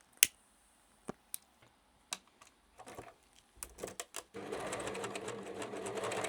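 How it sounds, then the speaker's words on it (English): A domestic sewing machine stitches a lace garter belt: a few sharp clicks and short bursts come first, then a steady, close whirring run of stitching from about four and a half seconds on. "I'm going to retread it quickly and then stitch another side."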